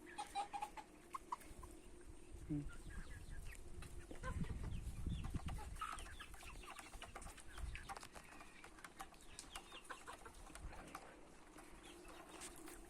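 Chickens cluck and chatter nearby in a steady, busy stream of short calls, with some rustling and scuffling underneath.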